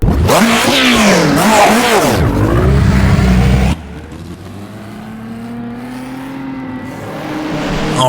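A 1960s Formula One V12 race car in rFactor 2 screams through high revs with rising and falling pitch sweeps, drops abruptly near the midpoint, then settles into a steadier drone that climbs again toward the end.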